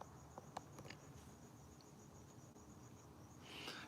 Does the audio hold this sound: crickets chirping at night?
yes